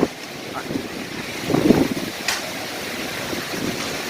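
Strong gusting wind in a sand and rain storm in the UAE, a steady broadband roar with a louder gust swelling midway, close to the microphone.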